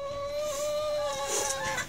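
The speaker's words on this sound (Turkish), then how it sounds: "Yeni tavuklarımız bunlar." Several new backyard chickens cluck and murmur close by with a sustained tonal call, against outdoor wind noise and no speech.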